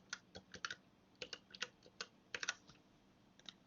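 Fingers tap out a password on a computer keyboard, a quiet scatter of uneven clicky keystrokes in short bursts with brief pauses, close by in a quiet room and with no talking.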